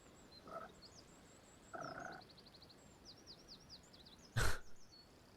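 Frog in the Pathfinder: Kingmaker video game giving three separate croaks, the last loudest and sharpest, over quiet ambience dotted with faint bird chirps.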